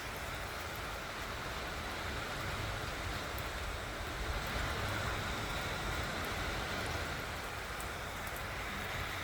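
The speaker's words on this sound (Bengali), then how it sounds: "এই যে বৃষ্টি নামতে আছে" Heavy rain falls steadily outside a home, a dense and continuous broadband hiss of downpour that stays constant throughout without any break, heard alone with no talking.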